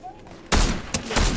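Video game gunfire erupts in a sudden loud burst of rapid shots after a brief quiet moment, followed by a second, shorter volley, all close and sharp.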